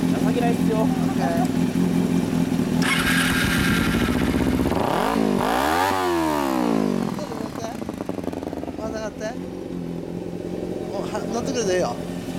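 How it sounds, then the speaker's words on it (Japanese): An early-model Kawasaki 250R motorcycle with an aftermarket muffler idles loudly, then its engine revs up sharply in a rising and falling sweep before settling back to a steady idle, with voices talking over it. "ちょっと待って、エンジン音聞かせてもらえる？"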